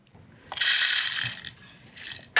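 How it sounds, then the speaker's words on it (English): A food processor grinds half a cup of Sicilian pistachios: a loud whirring, rattling burst that runs about a second and a half, drops away, then briefly returns, with a fresh surge at the very end. "you can grind the nuts"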